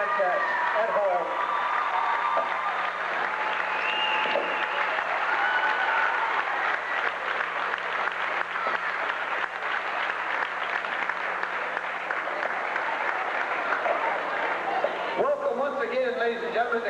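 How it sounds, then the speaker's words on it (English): Home crowd in the Carthage gymnasium applauds the seniors before a high school basketball game, a steady roar of clapping that runs unbroken for over fifteen seconds, with a few faint voices and cheers mixed in. "Let's give a nice round of applause to all of our seniors in their final contest at home."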